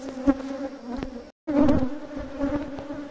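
Honey bee swarm at an apiary hums in a dense, close buzz with wavering pitch, briefly cut out for a moment before resuming just as strongly.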